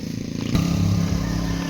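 Motorcycle engine while riding, a steady close putter with a brief surge of revs partway through, no talk.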